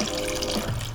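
Iced tea poured into a glass to the top, a short burst of steady splashing liquid with a bubbling trickle as the level rises, close and moderately loud, alone.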